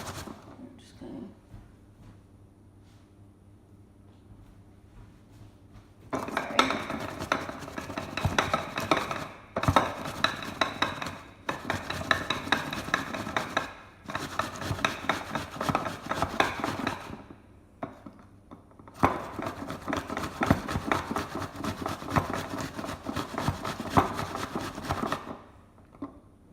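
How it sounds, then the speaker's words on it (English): An apple is grated by hand, bursts of harsh, dense rasping scrapes that start after a quiet stretch and repeat in several long runs with short pauses between them, close and loud. "I'm also today going to add in a grated apple."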